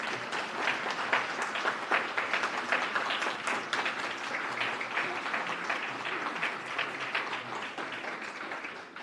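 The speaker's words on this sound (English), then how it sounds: "Let's give them a round of applause." Audience applause at a Lakewood candidate forum, steady clapping from the crowd filling the whole stretch at moderate level, with no talking over it.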